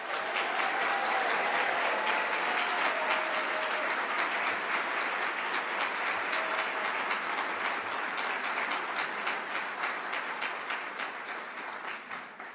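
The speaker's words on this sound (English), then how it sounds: "Please join me in one more round of applause" Sustained, dense applause from a large crowd at a university graduation breakfast, loud and steady for several seconds before gradually thinning and fading toward the end.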